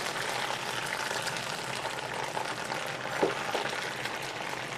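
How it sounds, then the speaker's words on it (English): Parsley deep-fries in oil at 365 degrees, giving a steady, close bubbling sizzle with a few small pops and crackles throughout. "So you fry your parsley for a couple of minutes, probably about a minute and a half"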